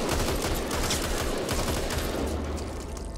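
An M4 rifle in the video game Back 4 Blood fires in rapid, continuous automatic bursts, the dense crackle of shots filling the whole stretch loudly.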